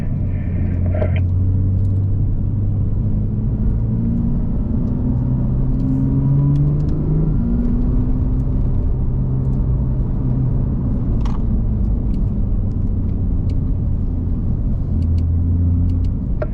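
A Porsche 911 GT3 RS pulls away on a drive, its engine a deep, steady rumble with a couple of rising and falling rev changes, running continuously and fairly loud with no voices.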